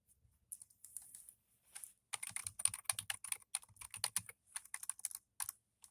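Someone types on a computer keyboard while filling in an online grant application form, producing close, soft key taps. A few sparse strokes open, then a dense, steady run of typing follows with short pauses.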